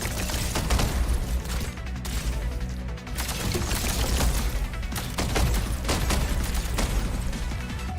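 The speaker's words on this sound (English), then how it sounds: "Just exploding everywhere now." Explosions from the video game Arknights Endfield come as rapid, dense bursts of booming blasts and crackling gunfire-like impacts, continuous and loud with no talking.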